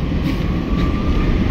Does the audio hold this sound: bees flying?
no